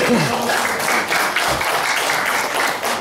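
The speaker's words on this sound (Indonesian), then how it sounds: "Ya, kita berikan tepuk tangan untuk pasangan." An audience at a mayoral and vice-mayoral candidate debate in Kupang claps in a brief burst, with a voice and hall noise mixed in over the clapping.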